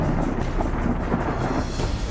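Heavy monsoon rain pours in Rudraprayag, Uttarakhand, with a low rumble of thunder under the dense, steady roar of rainfall.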